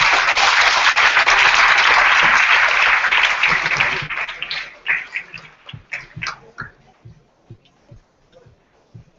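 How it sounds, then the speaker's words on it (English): Conference audience at a beach tech event applauding panelists: a dense burst of clapping that holds for about four seconds, then thins into scattered individual claps before fading out. "let's give these guys a round of applause."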